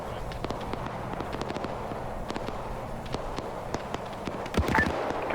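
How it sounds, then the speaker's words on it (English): Gunfire in Arma 3, a World War II Germans-versus-Soviets battle with a hundred players: sharp, scattered shots crack at varying distances over several seconds, irregular and clustered, with a louder burst near the end. "Firing at the Russian."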